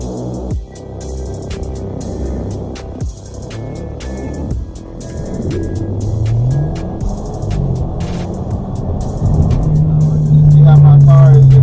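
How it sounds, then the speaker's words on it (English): A modified Audi 2.0T with a K04 turbo and an aftermarket intake manifold idles roughly, its engine note catching and stumbling in an uneven, loud rumble that rises toward the end. "See how my car is just like keeps catching."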